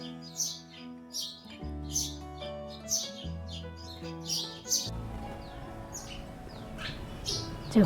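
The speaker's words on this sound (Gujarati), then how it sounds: "આ ચકલિયું બોલે છે ને તો એવો સરસ અવાજ સંભળાય છે" Sparrows chirp at dusk in quick, bright bursts at a steady pace over a low, sustained droning tone, then keep twittering more loosely toward the end.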